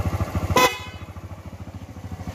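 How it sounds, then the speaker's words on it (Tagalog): A Kawasaki Barako II motorcycle horn gives one short, loud honk over the idling engine's steady, rhythmic putter, which keeps running after the horn stops. "Okay, patay mo. Busina."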